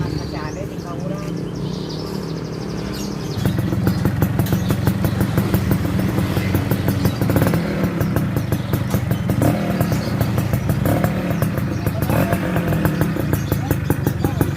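A Fiz R motorcycle fitted with an IKR Racing stainless racing exhaust revs loud and close. Its crisp, rattly note grows stronger after a few seconds and keeps going steadily.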